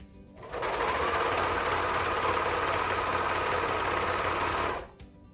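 A serger overlocks elastic onto swimsuit fabric, the elastic held lightly stretched, producing one continuous, fast mechanical whir for about four seconds, with a quiet start and stop at either end.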